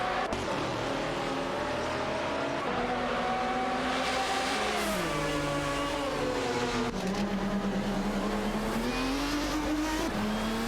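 A Lister Storm GT race car engine in a racing video game drones loudly and continuously, its pitch climbing and dropping through gear changes across the stretch.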